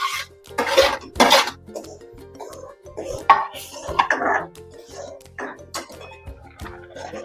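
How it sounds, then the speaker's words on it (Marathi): Semolina for sheera goes into boiling water in a pan: a spoon clinks and scrapes against the metal in irregular bursts, with soft pouring and stirring sounds close by, and faint low voices underneath. "आता आपण त्यामध्ये रवा घालून घेऊया।"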